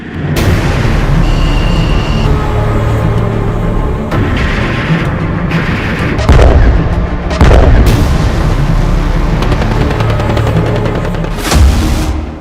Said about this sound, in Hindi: जरा देखिए यूक्रेन के ड्रोन, तोप के गोले और फाइटर जेट के हवाई हमलों से कैसे रूसी सेना तबाह हो रही है।